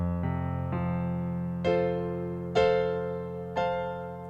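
Piano chords ring out over a low sustained bass, left-hand arpeggios under right-hand chord inversions, with new voicings struck every second or so, each attack fading slowly.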